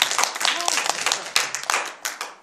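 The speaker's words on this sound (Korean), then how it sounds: "경진이 박수 부탁드립니다" Children at a church Christmas celebration clap for Gyeongjin, with scattered uneven hand claps close by and a few voices talking and calling out among them.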